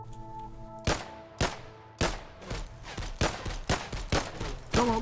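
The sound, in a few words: sudden burst of gunfire in a video game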